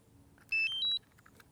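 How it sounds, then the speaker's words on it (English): A DJI drone remote controller, for a Mavic Pro or Phantom 4 Pro, powering on with a quick sequence of bright electronic beeps stepping upward in pitch, clear and close against a quiet room. "So I'm turning on the controller."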